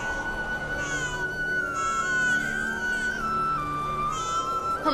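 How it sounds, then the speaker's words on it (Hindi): A baby cries in a long, wavering, high-pitched wail that rises and falls without pause, loud and steady throughout, with no talk over it. "बच्चे की रोने की आवाज कहां से आ रही है?"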